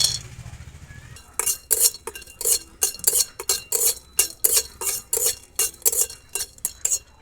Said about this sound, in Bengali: আমি প্রথমে কাজু বাদাম আর চীনা বাদাম দুটো খালি কড়াইতে ফেলে বেজে নেব